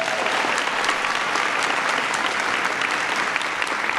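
A large audience at a presidential speech on education and high school redesign claps steadily, a dense, even wash of applause held at full strength throughout.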